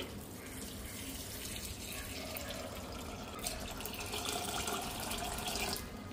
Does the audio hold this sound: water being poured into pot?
yes